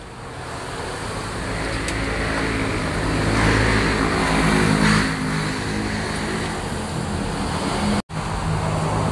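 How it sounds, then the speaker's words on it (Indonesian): A car engine just back together after a carbon-clean tune-up runs at a steady idle. The hum is continuous, broadband and fairly loud, with a slight swell midway and a brief dropout near the end. "kemudian kita hidupkan mesinnya"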